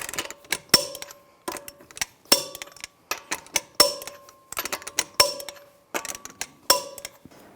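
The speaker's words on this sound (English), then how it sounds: "Now I'm going to tighten the lug nuts to 140 foot-pounds in a cross pattern to tighten the wheel down evenly." A wrench torques the wheel lug nuts on a 2008-2017 Buick Enclave in a cross pattern, giving repeated sharp metallic clicks and clanks in short bursts of two or three, close and fairly loud, with no talking.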